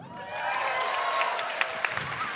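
Audience applause at a live comedy podcast show at the 2017 Melbourne International Comedy Festival, a steady wash of clapping with faint cheering and a few sharper claps near the end.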